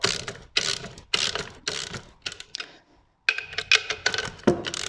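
Nuts are tightened on the handwheel mechanism of a Handi Quilter longarm quilting machine: a close series of sharp, ratchet-like mechanical clicking bursts, then a brief pause, then more clicks.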